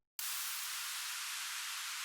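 A burst of bright white noise switches on abruptly and holds steady, a loud hissing wash like a synth exhaust effect with no other sounds.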